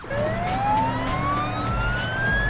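A fire truck siren wails upward in a rising tone over a low engine rumble, loud and close, with no voices.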